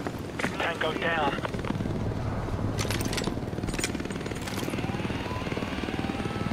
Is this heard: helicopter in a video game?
yes